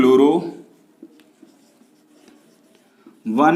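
Faint scratches of writing out a haloalkane chemistry name, quiet strokes and taps between stretches of a person talking at the start and end.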